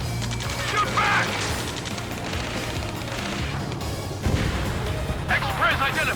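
Gunfire and explosions during a ground rescue mission in Ace Combat 7: Skies Unknown, dense bursts of shots and crashes under shouted combat voices, loud and continuous.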